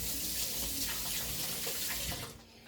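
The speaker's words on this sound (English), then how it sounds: "let me rinse my spoon off." Tap water runs steadily into a kitchen sink to rinse a spoon, a continuous close splashing hiss that cuts off just before the end.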